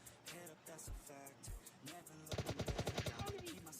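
Gunfire in the video game PUBG Lite, with a few scattered single shots followed by a rapid burst of automatic fire, while a voice talks quietly underneath.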